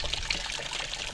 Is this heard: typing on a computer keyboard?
no